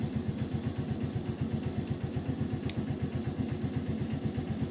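A TMX Supremo motorcycle engine idles steadily at close range, a rapid, even low thumping pulse that holds through the whole stretch, with a couple of faint sharp clicks on top.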